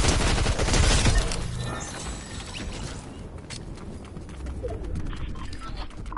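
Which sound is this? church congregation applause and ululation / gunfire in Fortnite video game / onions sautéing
gunfire in Fortnite video game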